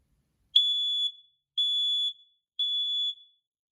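A household smoke alarm installed in a living room is tested, giving three piercing high-pitched beeps of about half a second each at an even rhythm, with silence between them.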